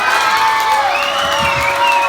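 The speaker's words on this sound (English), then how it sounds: "Let's cheer him on, guys. Let's hear it for him." A crowd at Grant's Farm cheers on a dog named Marley during an animal show, with loud whoops and applause from adults and children blending into a sustained roar, plus brief whistling squeals above it.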